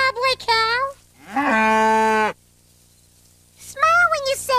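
A cow gives one long, loud, drawn-out moo between stretches of a child's high-pitched voice, followed by a short silence.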